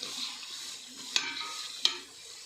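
Tomatoes sautéing in a pan for chicken biryani, a soft continuous sizzle with two sharp stirring clicks of a utensil against the pan, fairly quiet and without talk.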